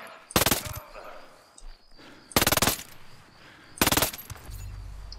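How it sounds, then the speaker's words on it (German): Submachine gun fire in the video game Ghost Recon Breakpoint, three loud, sharp bursts of rapid shots spaced about two seconds apart, with quiet ambience and faint thuds between them. "Ein Headshot mit einer MP auf die Distanz."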